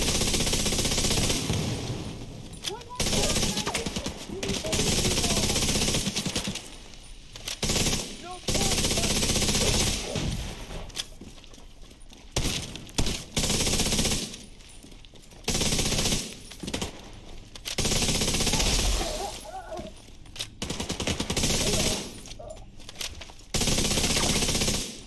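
Automatic weapons chatter in The Division 2, with repeated bursts of rapid gunfire broken by brief lulls throughout, loud and close over a busy combat backdrop.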